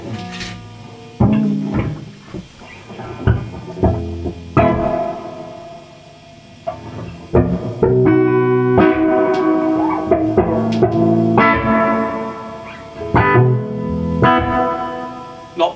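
Vox AC30 guitar amp with its spring reverb turned to full, electric guitar chords and picked notes ringing out with long, washy reverb tails and some metallic splash between strums.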